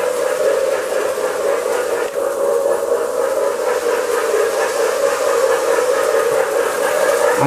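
A postwar toy train steam whistle blows in one continuous, steady hiss and tone for several seconds, fairly loud and close, with no talking.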